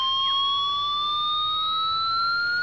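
NOAA weather alert radio sounding its test alarm, a loud, steady, piercing electronic tone that holds unbroken throughout, close to the device, with no speech.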